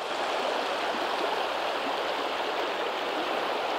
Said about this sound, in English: And there's a view of the river, beautiful river.